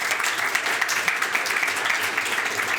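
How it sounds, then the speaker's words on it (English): An audience at an evening indie game developer meetup applauds, a continuous dense clatter of many hands clapping at moderate volume throughout, with no clear voices over it. "Let's give Rupert a round of applause"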